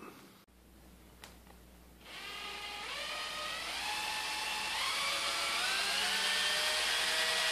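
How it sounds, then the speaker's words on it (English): A power drill twisting braided wire strands whirs up after a couple of clicks, its pitch climbing in steps as it spins steadily and loudly for several seconds. "I'm going to stick it in my drill and twist them as well."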